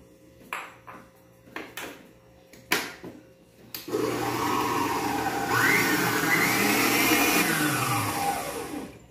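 An electric hand mixer whips egg whites for a lemon meringue after several sharp taps and clinks of utensils against a bowl, then runs continuously with a steady whir that shifts in pitch as the beaters move.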